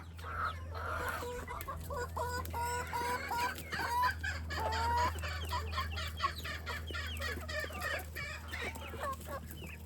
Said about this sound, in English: These little ones, they've been making noise.